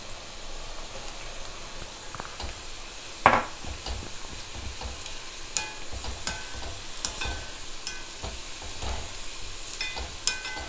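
Chopped black yam sizzles in a pan of oil for pickle, with a steady frying hiss under repeated scrapes and clinks of a spoon stirring, plus one sharper metallic knock, close and moderately loud.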